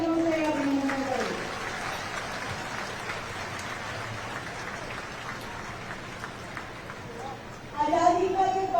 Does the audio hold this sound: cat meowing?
no